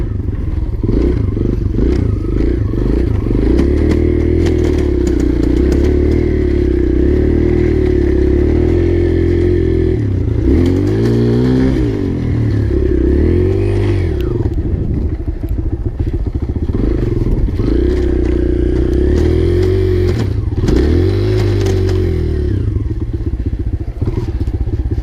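A dirt bike ridden in snow growls loudly and continuously as its engine revs up and down in repeated surges during a wheelie attempt, with occasional thuds and clatter, close by.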